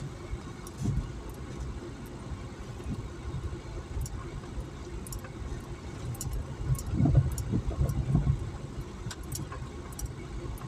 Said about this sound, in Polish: Ależ tutaj po takich wertepach trzeba przejechać.